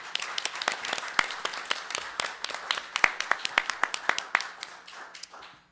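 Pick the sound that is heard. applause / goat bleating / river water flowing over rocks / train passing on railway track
applause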